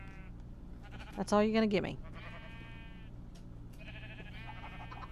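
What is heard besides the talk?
sheep bleating in a video game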